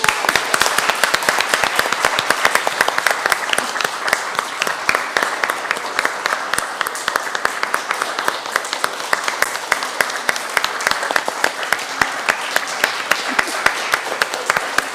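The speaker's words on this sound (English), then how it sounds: "Let's give them a big round of applause." Sustained applause from a crowd, dense clapping holding steady and loud throughout with no break.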